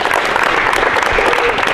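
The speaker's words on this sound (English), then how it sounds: "Clap it up for him." Audience applause for Robert Wright III, a Mount Vernon High School guard, at a 7th/8th grade all-star basketball event; dense, steady clapping fills the whole short stretch at close range.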